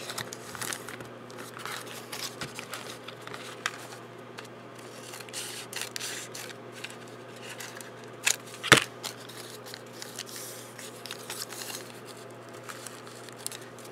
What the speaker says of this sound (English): this little scrap of green would be nice. I'm going to cut it, I think.